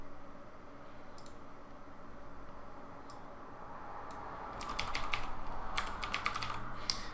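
Rapid keystrokes on a computer keyboard, sparse clicks at first and then a dense burst of typing toward the end, close and fairly quiet over a low background hum.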